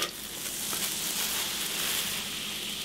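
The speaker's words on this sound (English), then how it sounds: "That sizzle lets you know it's working." Sliced jalapenos sizzle in a pan of Dr. Pepper for jerky marinade, a steady close hiss of frying that holds evenly throughout with no talk.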